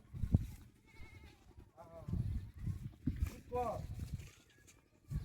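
Two wavering goat bleats rise out of a busy outdoor scene where the goat is being sold, with people talking and shuffling nearby.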